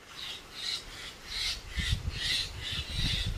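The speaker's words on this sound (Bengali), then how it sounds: "শালিক পাখিগুলো ঝগড়া করছে।" Several myna birds squabble in a coconut tree during a storm, giving harsh, raspy calls in repeated bursts over a low rumble of wind and rustling.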